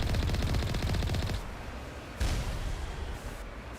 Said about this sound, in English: These are Alliance heavy turrets.